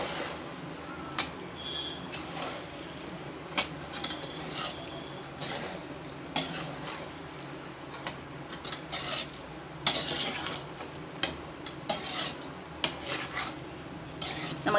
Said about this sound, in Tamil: இப்போ இதை வந்து எல்லாமே படுற அளவுக்கு நம்ம கிண்டி விடணும்